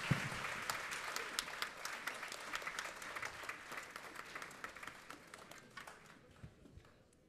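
An audience at a music night applauds a harmony band and its singer, a dense patter of many hands clapping that fades away toward the end.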